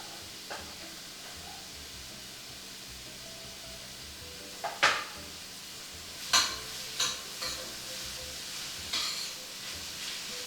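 Pepper hitting a hot pan with onions that have sautéed until translucent, giving a low steady sizzle with a few sharp crackling bursts and a faint stirring scrape, alone with no voices.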